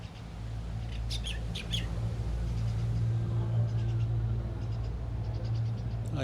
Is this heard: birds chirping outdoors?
yes